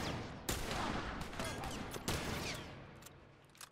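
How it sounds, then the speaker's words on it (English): Gunfire in The Last of Us Remastered, a few sharp shots cracking over a noisy, chaotic combat background, fairly close and fading toward the end. "who the hell shot me that time?"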